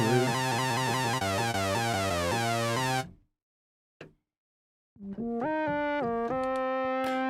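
A Moog hardware synthesizer plays a rapid sequence of stepping tones that cuts off into silence. After a lone short blip, a new line of sustained notes rises and shifts in pitch, loud and close.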